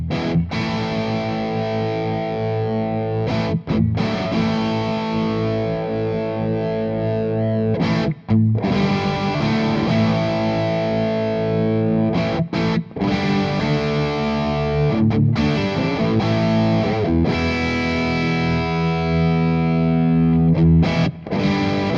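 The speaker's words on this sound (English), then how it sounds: "I'll turn the tone control back up on the pedal." An electric guitar played through an amp with a distortion pedal, its tone control turned up, gives sustained gritty chords with short breaks between strummed phrases, loud and close with no talk.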